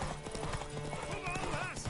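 Rhythmic clip-clop of horse hooves trotting, with a horse whinnying and a voice speaking over it, clearly game-like in quality.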